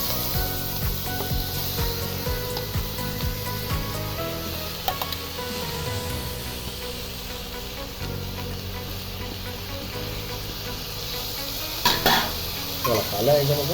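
Grated coconut stirred and fried in a pan, with a steady sizzle under continuous scraping, stirring strokes of a spoon, close up, and a few sharper knocks near the end.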